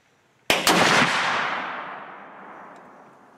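A single sharp report from a Winchester X 150 muzzleloader rifle fired outdoors, one loud close blast with a long rolling decay fading over about three seconds, no talk.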